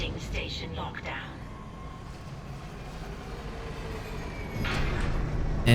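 A tram rides between stations in the Dead Space Remake video game, heard as a steady low mechanical rumble throughout. A brighter swell of rail noise builds toward the end.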